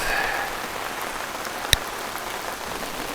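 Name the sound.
rain falling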